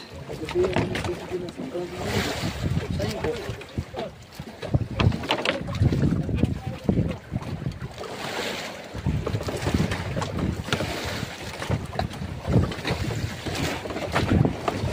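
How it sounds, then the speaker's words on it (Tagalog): Strong wind buffets the microphone in heavy, gusting roars, with water sloshing in a strong current and a voice talking now and then underneath. "Walang tigil ang hangin at saka yung agos, sobrang lakas."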